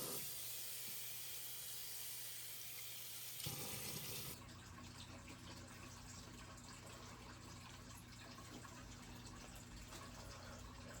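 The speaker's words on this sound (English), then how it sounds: "Always make sure you rinse these off before you put them in the filter." Brand-new aquarium filter media rinsed under a running tap, a steady close rush of water that shifts in tone partway through, with no talking.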